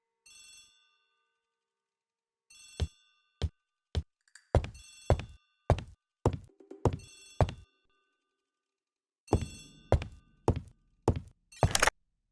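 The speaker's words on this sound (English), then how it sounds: "The telephone in the hall is ringing." An old-style telephone bell in a video game rings in short bursts, separated by thuds and clunks, with a longer ringing sequence near the end.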